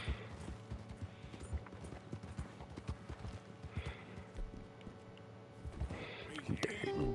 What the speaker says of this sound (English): Dirty ass horse.